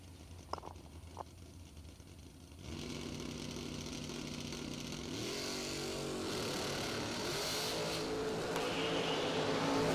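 Engines of a dragster and a second drag-race car rev and build to a steady, loud roar during a bracket drag racing run, with the noise swelling as the run continues and no talking.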